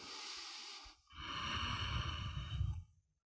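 Two slow, deep breaths during Iyengar-influenced vinyasa yoga practice: a brief airy exhale, a pause, then a longer audible inhale-exhale, close and quiet with no talking.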